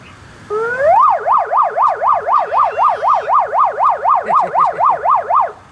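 A loud police siren's electronic yelp tone rises and falls in a rapid, regular cycle, about fifteen times without pause.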